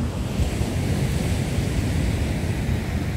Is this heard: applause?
no